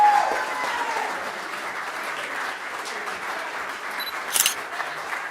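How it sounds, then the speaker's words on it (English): Audience applauds steadily at an awards night, broad sustained clapping throughout with a brief burst of camera shutter clicks near the end. "can I have a big round of applause, please, for Adam Martin Lawrence"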